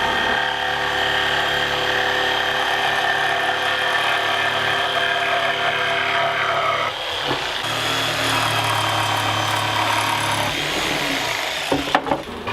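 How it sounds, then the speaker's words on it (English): A jigsaw cuts feet into the bottom of a reclaimed wooden crate being built into a toybox, a loud steady motor whine running almost continuously, changing pitch partway through, with a few knocks at the end. "I'm using my jigsaw to cut out some feet in the bottom of the box."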